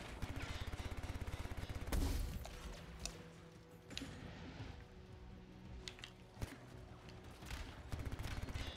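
Distant, fairly faint gunfire in the Anthem video game, a steady rattle of rapid shots at first, then scattered individual bangs and thumps over low background rumble.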